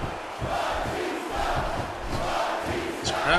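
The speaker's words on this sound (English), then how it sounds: "This crowd cheering for Batista." A wrestling video game crowd cheering and roaring, a loud, sustained wash of massed voices that swells slightly near the end, with no commentary over it.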